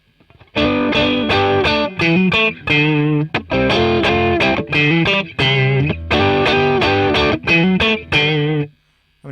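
A Boss Katana 100 combo guitar amp plays an old school blues tone: distorted electric guitar phrases in loud bursts with short gaps, ending in a brief silence.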